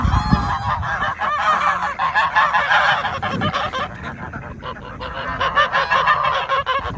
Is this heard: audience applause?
no